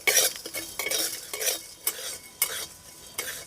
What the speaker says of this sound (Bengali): এবার সব কিছু ভেজে নেবো হালকা করে।